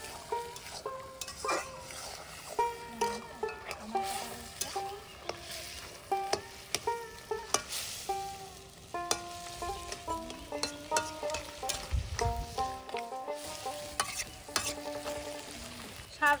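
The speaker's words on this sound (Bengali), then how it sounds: "শাকের সঙ্গে মশলাগুলোকে ভালো করে মিশিয়ে দিচ্ছি।" Greens being stirred in a hot pan after turmeric and cumin powder go in, a steady sizzle and frying hiss under repeated scraping and stirring strokes of a utensil, close and continuous with no talk.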